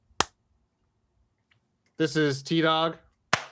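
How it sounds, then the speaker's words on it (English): Two single sharp hand claps, one at the start and one at the end, each crisp and close, with someone speaking briefly between them. "Clap for fun."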